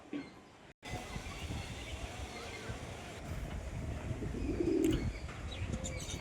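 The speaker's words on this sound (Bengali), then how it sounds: "দেখতে পাচ্ছ পায়রাগুলি সব খাচ্ছে" Pigeons feeding on scattered food behind a house give a soft coo among steady rustling background noise, with a voice talking through much of it.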